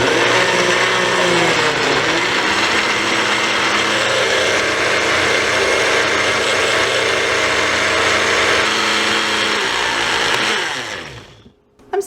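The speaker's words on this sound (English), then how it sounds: "I'm still getting to know my blender." A countertop blender runs steadily at high speed, blending blueberries, almond milk, yogurt, vanilla and honey into a smoothie; a loud, continuous whir that holds for about ten seconds before cutting off abruptly.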